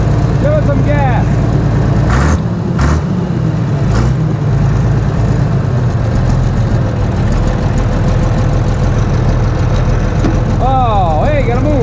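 A Case 1150 dozer engine runs loud and steady throughout, a rough low rumble with a brief surge early on, while people talk over it nearby.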